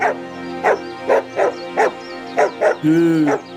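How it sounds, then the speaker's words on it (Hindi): A hungry dog barks close by in an evenly spaced string of about eight sharp woofs, ending in a longer, drawn-out whining howl. "अरे, इस कुत्ते को क्या हुआ? ये यहाँ पर आकर ऐसे भौंक क्यों रहा है?"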